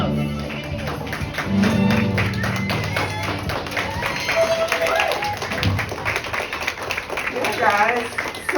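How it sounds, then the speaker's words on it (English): Live audience clapping for a jazz performance with a school orchestra and a guest jazz musician, loud and steady applause with a cheer and voices mixed in. "Big round of applause."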